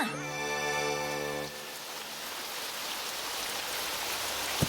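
Steady rain falls in a Fairy Tail anime scene, a dense even hiss that follows a brief tonal sound at the start and continues alone to the end.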